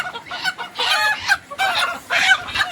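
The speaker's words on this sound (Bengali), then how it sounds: "মুরগি বিশাল ছটপট, হাত ধরে দেওয়া যায় না" Desi chickens cluck and squawk in agitated bursts while being held and weighed, close and loud, several flapping outcries in quick succession.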